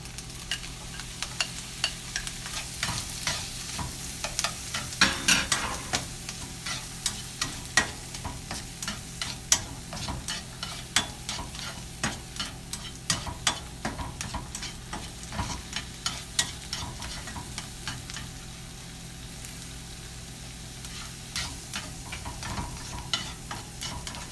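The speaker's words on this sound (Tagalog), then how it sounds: "So, let's cook the vegetable muna." Tomato and onions sautéing in a pan, a continuous close sizzle broken by frequent stirring scrapes and taps of a utensil, with no talking.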